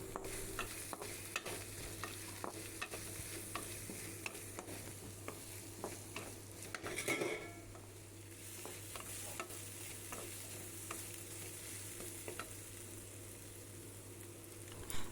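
Garlic and long-cut medium onion slices sauté in a pan for radish chutney, a quiet steady sizzle with repeated scraping stirs and a louder clatter midway, no voices.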